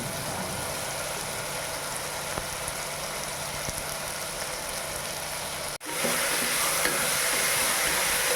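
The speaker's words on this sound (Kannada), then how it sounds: "ನಂತರ ಬೀನ್ಸ್ ಹಾಕ್ಕೊಂಡು ಚೆನ್ನಾಗಿ ಫ್ರೈ ಮಾಡ್ಕೊಳ್ತೀನಿ" Green beans stir-fried in a pan with onion, tomato and salt, a continuous close sizzle with light scraping of stirring, a brief dropout then louder frying resuming; no voices.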